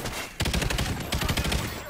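Rapid automatic gunfire in the video game Call of Duty: Ghosts, dense overlapping bursts of shots that rattle on nearly without pause after a brief quieter moment.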